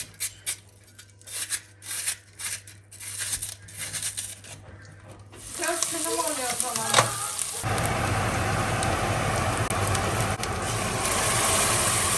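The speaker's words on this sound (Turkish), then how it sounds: "salçamı kavurdum soğanımla gördünüz." Clattering and stirring sounds give way to a steady, loud sizzle of tomato paste frying with onions in oil in a pan, continuing close up to the end.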